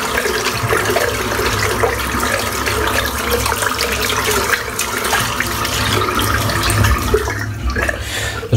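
Running tap water rinsing dishwashing soap out, a loud close continuous splashing stream with gurgling and dripping that holds steady before tapering at the end.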